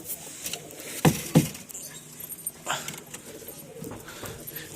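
Pairs of pigeons, including Kanchkola birds, sit in stacked loft coops, giving soft, nearby coos mixed with a few sharp rustles and scuffles of wings and feet.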